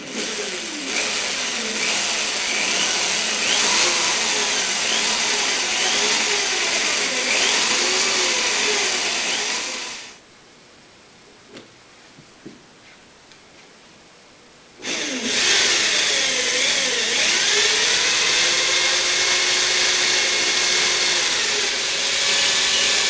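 A power drill whines loudly and close, boring holes into wood for a fireplace mantel in two long runs separated by a few seconds of near quiet.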